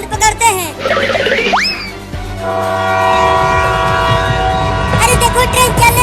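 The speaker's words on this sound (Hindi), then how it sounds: "अरे देखो ट्रेन चलने लगा।" Cartoon train pulling away from a station: a loud horn blast with a rising whistle, then steady chugging and rumbling wheels building as it starts to move, with a brief voice at the start.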